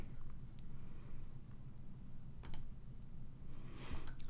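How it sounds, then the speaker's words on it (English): Sharp computer mouse clicks on a student visa web portal, a few separate taps spaced unevenly over a steady low hum, no voices. "go ahead and click on it."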